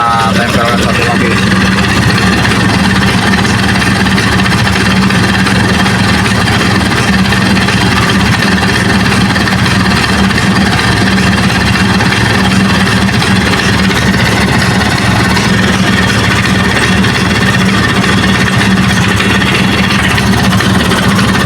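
A Vespa Sprint scooter engine idles steadily and close by for the whole stretch, with a low even rumble and people talking over it.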